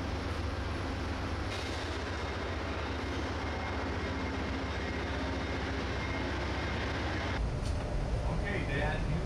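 Continuous loud rumbling and clatter of a moving double-decker cross-country passenger train between Chicago and Denver, steady throughout, with the low roar dropping off near the end.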